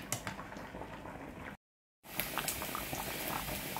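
A pot of tamarind sauce with fried shrimp and taro simmers with close, soft, continuous bubbling and popping, cut by a brief dropout near the middle before the boiling resumes.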